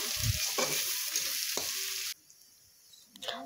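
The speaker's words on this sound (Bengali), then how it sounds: "সরষের তেল দিয়ে পেঁয়াজ কোচানোগুলো দিয়ে দিলাম। পেঁয়াজ কোচানোগুলো নেড়ে নিতে হবে।" Mustard oil sizzles loudly as sliced onions fry, with a few scraping stirs in the pan, then the sizzle cuts off abruptly to near quiet.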